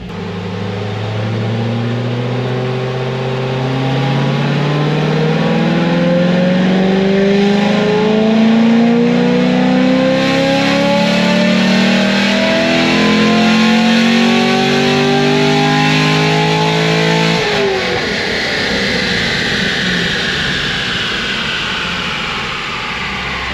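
An LS3 Corvette Grand Sport fitted with a cam is run on a dyno, the engine revving loud and close as its pitch climbs steadily for a long pull, then cutting off sharply and winding down.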